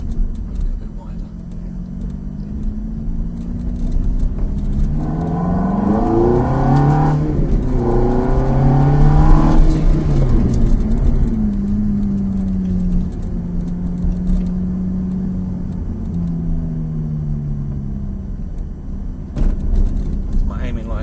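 A Ferrari F430 or Lamborghini Gallardo sports car on a track day, its engine droning close and loud, then revving hard with rising and falling pitch before settling back to a steady growl.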